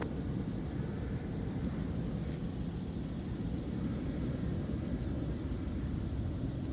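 An Sun Country airliner takes off from runway 30 right at Minneapolis–St. Paul airport, a steady broad low roar that holds at the same level throughout, with no voices.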